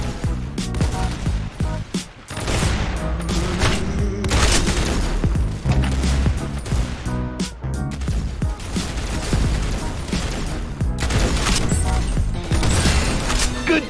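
Dense Roblox Arsenal gunfire bursts out in rapid, overlapping volleys of loud shots, nearly continuous with brief gaps, mixed with booms and clattering game effects.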